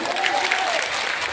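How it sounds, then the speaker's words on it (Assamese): A crowd claps at a political rally, a brief burst of dense applause lasting about a second. "এটা হাত তালি হ'ব লাগে।"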